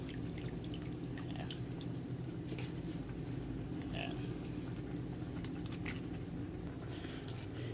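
Sardines and pechay simmer in a pot with a continuous low bubbling and light dripping patter that stays steady and close throughout, with no talking.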